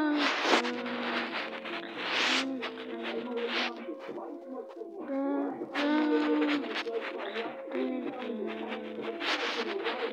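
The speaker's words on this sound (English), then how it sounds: "This is a little bit of my bird." A young pet bird coos in repeated short bursts, close and clear, with music playing in the background.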